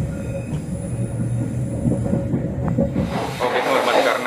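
Inside a Pasundan passenger train climbing a steep, winding track, a loud continuous rumble of wheels and carriage with tonal squeal and hiss, shifting to a brighter, noisier rattle near the end.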